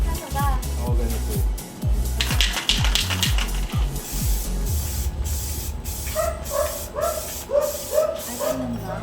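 A spray can hisses in several short bursts while painting a PC cooler mod, close and loud, as people talk and a small dog yips and whimpers nearby.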